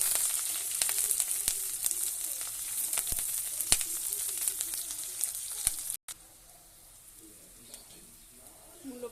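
Onion and green chili hit hot oil with fried garlic in a wok, a loud, dense sizzle with crackling pops that drops abruptly to a softer, quieter frying hiss near the end.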